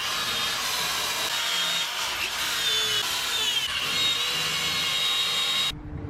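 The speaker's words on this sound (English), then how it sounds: "we'll just do a wire wheel and paint. And for this, we just have a super coarse wire wheel." A super coarse wire wheel on a power tool grinding surface rust off a classic Japanese car, a loud continuous abrasive whir that holds steady close up before stopping abruptly.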